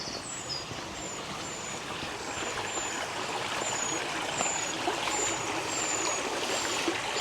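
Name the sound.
water flowing in a stream near a canal sluice gate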